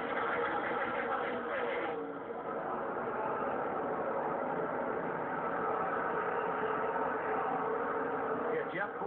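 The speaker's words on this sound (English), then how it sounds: "Truex with Jeff Gordon right up his tailpipe coming out of the tri-oval and headed for turn one" NASCAR race cars at Daytona just after the green flag, a dense, continuous roar of engines heard at a distance under a commentator's voice.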